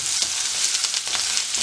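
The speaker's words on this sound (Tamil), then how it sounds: "இதை கொஞ்சம் மெல்லிய தணலில் வச்சு நாங்கள் வதக்கணும்" Onions and four green chilies sautéing over low heat in a pan, a bright steady sizzle with faint crackling, close and loud, with no voices.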